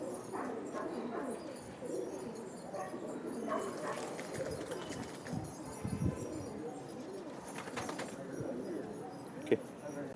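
Pigeons coo softly inside a loft in Coimbatore, a low murmur beneath someone speaking over a busy background of rustling and scattered clatter.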